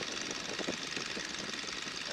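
A Boeing Stearman biplane engine warming up as power is brought forward, a steady, close rumbling drone with a pulsing beat throughout.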